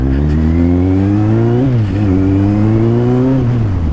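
A Kawasaki Z800 big bike's engine revs hard and close, with a loud sustained roar that rises and falls in pitch across several throttle blips and no talk.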